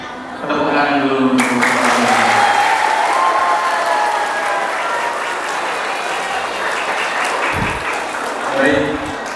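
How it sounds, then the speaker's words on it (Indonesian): An audience at an Islamic organisation's lecture breaks into loud, sustained applause that swells quickly and stays dense for several seconds, then thins out, with a voice briefly audible near the end. "Sekali lagi tepuk tangan dulu."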